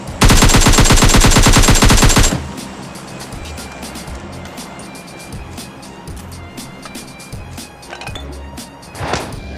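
Gunfire in the PUBG Mobile Lite battle-royale game: a loud, rapid automatic burst of closely spaced shots for about two seconds, followed by quieter scattered shots and movement noise, with a brief louder shot near the end.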